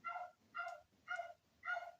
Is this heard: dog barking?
yes